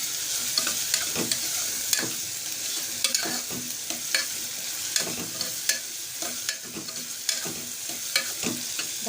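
Onion fries in a small pan, a constant soft sizzle punctuated by repeated rhythmic scraping and tapping of a spoon as it is stirred, moderately close and without talk.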